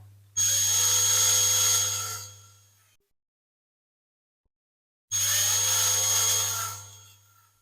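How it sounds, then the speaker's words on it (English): A drill bores into the plastic base of a diecast Rolls-Royce Silver Cloud model in two separate bursts of a few seconds each. Each burst gives a close, whining motor buzz that winds down, with a silent pause between them. "we've drilled those out probably enough"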